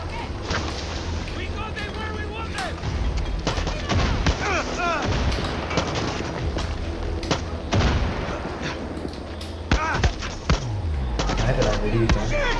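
Gunfire in the Far Cry 6 video game, with repeated sharp shots and bursts scattered through the clip over steady game background noise, while a voice talks in places.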